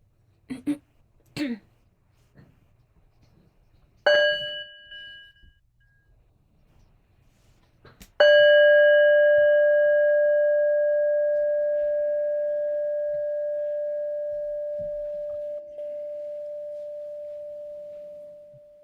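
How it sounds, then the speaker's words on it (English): A meditation bell rings once with a clear, pure tone and a long, slowly fading resonance that lasts more than ten seconds. A few faint clicks and knocks come before the strike in a quiet room. "So Sharon, we'll listen to a sound of the bell together before we hear your question."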